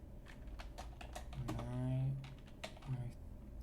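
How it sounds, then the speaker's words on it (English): Typing on a computer keyboard while entering a Ruby string in a code editor, a quick run of light clicking keystrokes under a voice. "So I'm gonna type"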